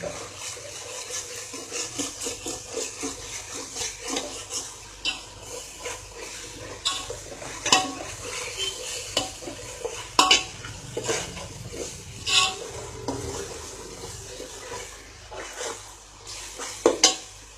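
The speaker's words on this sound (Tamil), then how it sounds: "புதினா கொத்தமல்லியும் நல்லா வதங்கிடுச்சு இஞ்சி பூண்டு பேஸ்ட்டு போட்டனால அடி பிடிக்கும்" Mint, coriander and ginger-garlic paste fry in a pan while a spoon stirs and scrapes, giving soft sizzling under irregular close clinks and knocks against the metal.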